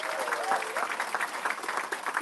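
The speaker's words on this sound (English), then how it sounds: "Round of applause for the rhythm section." Audience applause for a school band's rhythm section at a school board meeting: steady, moderately loud clapping that runs the full length of the short moment without pause.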